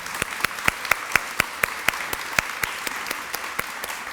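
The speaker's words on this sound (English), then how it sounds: "And I said round of applause, but you guys did it already" An audience at a charity awards evening claps for the nominees, a steady, moderately loud patter of many hands with a few sharper individual claps standing out, with no talking over it.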